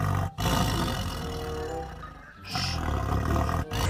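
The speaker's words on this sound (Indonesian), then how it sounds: "Wah, ada juga satu ekor harimau loh teman-teman." A tiger in a video game gives a loud, sustained guttural roar with brief breaks, heavy and close, with no talking.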